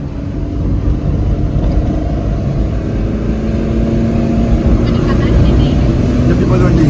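A car driving with a steady, loud engine and road rumble throughout, heard from inside the cabin, with no distinct revving or changes.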